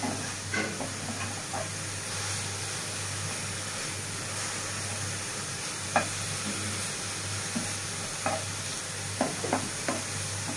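Coriander leaves frying in a pan for a mashed coriander dish, a soft continuous sizzle with scattered crackles and sharp pops, a low steady hum underneath and no talk.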